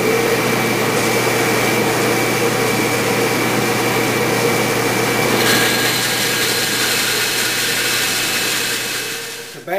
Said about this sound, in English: I'll start by cutting, using the bandsaw, a shallow curve along the leg